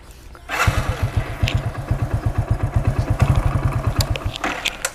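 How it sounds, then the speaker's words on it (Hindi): Motorcycle engine running on hand sanitizer fires up and settles into a rapid, evenly pulsing putter, close and fairly loud, with a faint clatter and no talking over it. "स्टार्ट करके देखते हैं पहले बाइक।"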